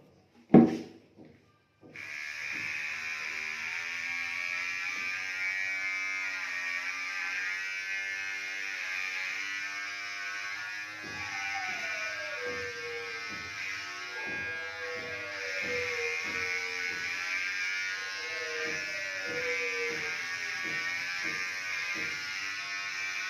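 Electric clippers shave an animal's long fur to clear ticks. A sharp click starts a steady, close buzzing hum that continues throughout, with rising and falling whining cries over it in the second half.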